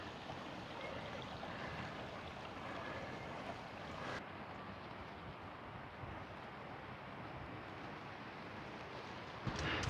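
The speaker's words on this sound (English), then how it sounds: "Look at that creek. That is absolutely beautiful." A creek in a Tennessee state park produces a soft, continuous rush of flowing water, faint and steady, mixed with a light airy hiss and a small bump at the very end.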